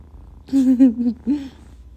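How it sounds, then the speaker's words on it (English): A pet house cat purring up close, heard as two short, resonant rumbling bursts with quiet gaps before and after, and no talking. "look how cute my cat is"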